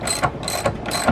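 A ratchet working a 13mm nut loose on a VW Vanagon fuel expansion tank, giving three quick clicking strokes in steady rhythm, close and clear.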